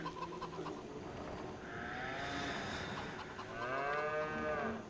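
Cattle mooing in the video game Farming Simulator 25 on a farm, two long drawn-out moos with rising and falling pitch over a low background hum and no talking.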